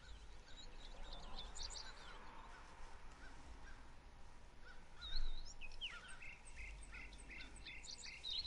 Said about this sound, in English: Sound like a bunch of crows again.